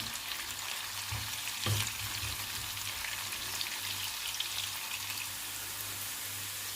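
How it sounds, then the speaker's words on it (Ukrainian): Onion sizzles steadily in hot oil in a pan, a continuous crackling fry with a brief stir or clatter near the middle, no voices. "Цибулю поджарюю до світло-золотистого кольору."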